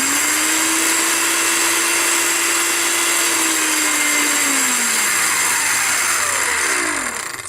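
An electric hand mixer motor runs after a speed selector switch repair, a loud steady whir that holds its pitch, then winds down near the end as it is switched off.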